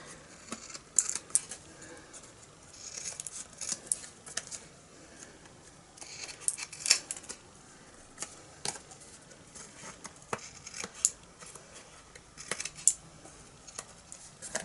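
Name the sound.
cutting paper with scissors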